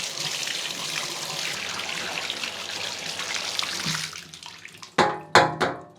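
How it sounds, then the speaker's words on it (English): A removable filter is rinsed under running water in a bathtub: a steady, close hiss of flowing water that fades out, then a few short, loud splashes. "Then I rinse it out in the tub."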